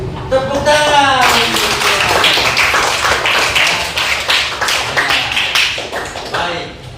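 A class claps their hands together in a classroom lesson, a burst of rhythmic clapping that follows a brief spoken voice at the start and tapers off.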